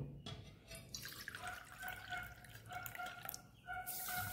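Water is poured into a bowl holding sugar to make sugar syrup for a Bengali sweet, producing a quiet, close trickling and splashing pour with faint drips, and no voices.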